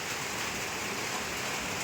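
Heavy rain pours down outdoors in a dense, steady hiss with no break, fairly soft overall and with no voices.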